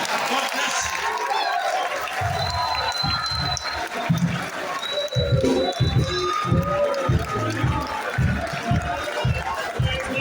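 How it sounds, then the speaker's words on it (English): A university audience claps for a lecturer at an anniversary lecture, a dense, uneven wash of applause from a large crowd that carries on steadily, with voices calling out through it. "A round of applause for him."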